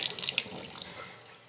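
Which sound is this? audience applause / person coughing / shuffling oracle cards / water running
water running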